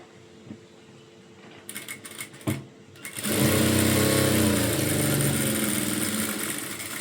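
An electric sewing machine stitches a blouse seam, starting after a few clicks and handling noises and then running steadily and fairly loud for several seconds.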